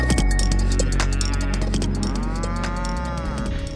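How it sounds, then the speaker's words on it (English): Cattle mooing loudly and close by in open country on the Arizona Trail near Flagstaff, several overlapping long lowing calls filling the whole stretch with no talk. "Excuse me, cows."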